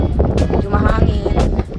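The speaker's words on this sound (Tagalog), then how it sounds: "Medyo mahangin." Gusty wind on a mountaintop in Banff in autumn buffets the microphone with low rumbling bursts while a person talks close by.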